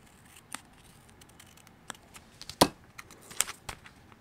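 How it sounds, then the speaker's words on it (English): Scissors snip through a paper journaling sticker while planning in a Hobonichi Techo, with a few quiet, close cuts spread out and one sharper snip standing out. "So I'm just gonna cut this."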